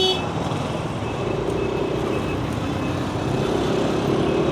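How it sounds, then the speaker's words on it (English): Dense street traffic in Binh Chanh District, Ho Chi Minh City, Vietnam, heard from a moving ride: a continuous loud roar of motorbikes and cars with faint horn toots scattered through it, and no talk. "I'll just let you enjoy the Vietnamese traffic"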